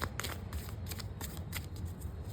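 Tarot cards being shuffled by hand during a reading, a rapid close-up run of crisp riffling flicks and card slaps repeating through the short stretch, with no voice.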